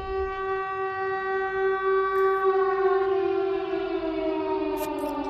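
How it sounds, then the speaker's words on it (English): Siren Head's siren in the VRChat video game: a loud, sustained civil-defense-style wail with a rich harmonic tone that slowly drifts downward in pitch, heard alone with faint clicks. "Siren Head, shut up"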